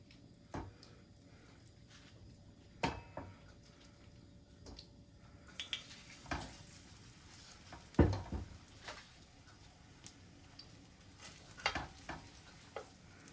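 Seafood pancake batter fries in a pan, a soft, quiet sizzle that thickens partway through, punctuated by scattered clicks and taps of a utensil.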